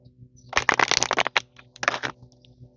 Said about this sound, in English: Sagittarius, one more shuffle.